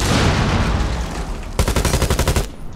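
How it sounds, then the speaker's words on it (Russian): Rapid automatic gunfire in Rainbow Six Siege, preceded by a noisy rush of action and then a close, loud burst of about a dozen evenly spaced shots lasting roughly a second. "Отойди, стреляю!"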